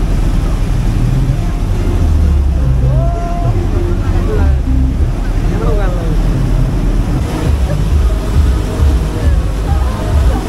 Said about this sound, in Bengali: আমাদের লঞ্চ ততই এগিয়ে যাচ্ছে উমানন্দ ঘাটের দিকে